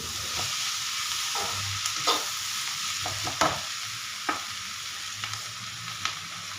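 Bitter gourd stir-fries in a pan with a continuous sizzle, while a spoon scrapes and clacks against the pan in several sharp knocks. No voices are heard.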